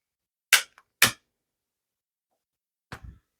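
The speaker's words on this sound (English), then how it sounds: "I just have a barbecue lighter." Barbecue lighter being ignited to light pipe tobacco: two sharp snapping clicks close together, then a pause and a third click with a brief soft flare, in near silence.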